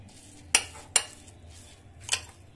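A spoon mashing and mixing a saffron sandesh mixture in a bowl, giving three sharp metallic clinks spread apart, with soft scraping between them.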